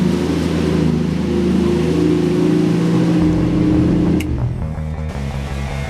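A 1965 Ford Mustang engine runs rough on a cold choke, a loud steady idle throughout with a sharper change near the end as the throttle or choke shifts; no one speaks.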